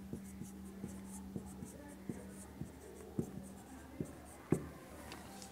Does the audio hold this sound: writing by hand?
yes